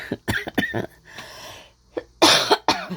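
A series of sharp, harsh coughs from a nearby person, several bursts spaced unevenly with brief quiet gaps between them.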